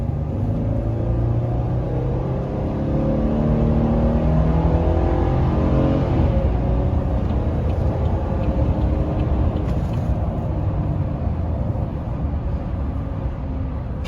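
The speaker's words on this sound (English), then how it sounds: "All right, here we go, merging on the highway." A 2021 Chevy Silverado 1500 Trail Boss pickup accelerates onto a highway, heard from inside the cab as a loud, steady low engine rumble with a slowly building drone.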